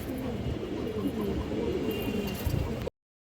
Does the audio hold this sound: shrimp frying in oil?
no